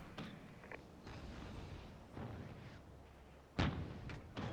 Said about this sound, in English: I've taken some pretty heavy artillery fire